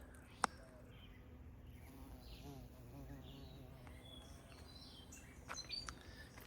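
Faint buzzing of bees among garden flowers such as snapdragons and azaleas. It carries on softly over a quiet outdoor background, with a few brief bird chirps and clicks.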